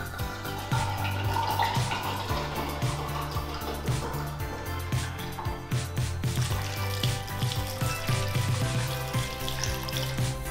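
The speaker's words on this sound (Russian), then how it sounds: "открываем сухое красное вино и добавляем 200 мл." Dry red wine is poured into a pot, about 200 ml, following apple juice, making a steady close gurgling splash of liquid that runs continuously with slight bubbling variations.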